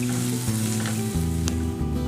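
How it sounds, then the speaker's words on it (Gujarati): Spices such as red chilli powder being stirred into a green turmeric curry in a hot pan, loud steady sizzling with scraping stir strokes, close and without voices. "હવે આપણે બધા જ મસાલાને શાકની અંદર મિક્સ કરી લઈશું"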